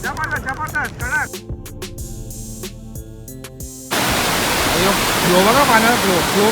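Heavy waterfall flow at Malshej Ghat, a loud broadband rushing roar that takes over midway and stays steady, after earlier voices and music-like tones; speech sits under it.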